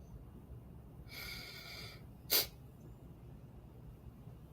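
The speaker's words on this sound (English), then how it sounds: "I heard the sniffle." A single sniffle, a short breathy intake followed by a brief sharper nasal burst, close and quiet over a faint hum.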